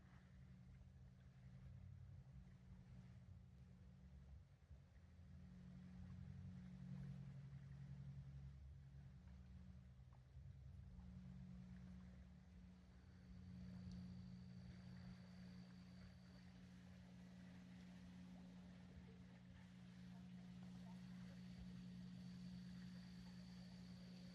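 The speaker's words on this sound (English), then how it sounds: "Those are the float planes that you hear." A steady, low float plane engine drone hums far off over a lake at Sioux Narrows, Ontario, for the whole stretch, rising slightly in the middle, with no voices.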